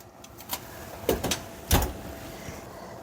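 An oven door swings shut after a tray of ribs is placed on the center rack, giving two dull clunks over a steady kitchen hum.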